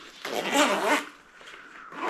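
A zipper is pulled along a fabric bicycle touring bag, a short scratchy rasp lasting about a second, close and fairly loud, followed by a quieter second pull.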